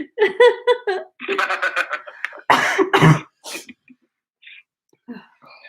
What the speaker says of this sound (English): That's the first time I've heard you cough